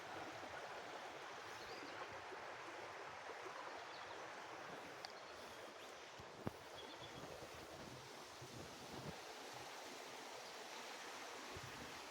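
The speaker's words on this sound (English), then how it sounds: "And the stream." Stream water flowing steadily beside a covered bridge at Leonards Mills in Bradley, Maine, a continuous broadband rush with faint wind, close and unbroken, no voices.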